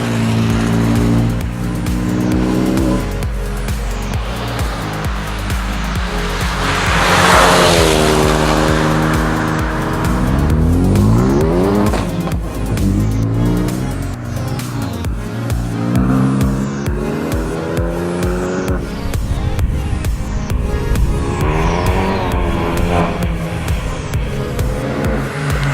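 Rally cars at Targa Tasmania racing on a slippery road, loud close engines revving and shifting through gears, rising and falling pitch as cars accelerate past, with sharp pops and crackles.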